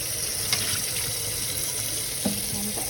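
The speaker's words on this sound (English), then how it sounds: "Kind of rinse inside of the turkey" Tap water runs steadily into a sink while a raw turkey is rinsed inside and out in a home kitchen, a constant splashing hiss with a couple of soft knocks and clinks.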